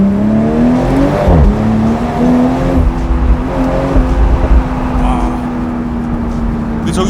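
A BMW Z4 M40i convertible with the top down accelerates hard onto a highway, its exhaust rising in a strong sustained drone with a pitch climb, heavy wind and road noise around it.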